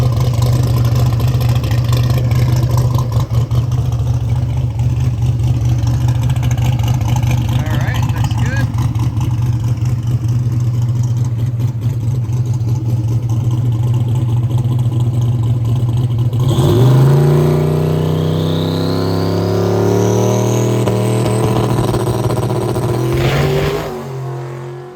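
A drag car makes a pass, its engine revving hard and steady up close, then rising through gear changes as the pitch climbs and finally lifting off near the end, with voices talking over the roar.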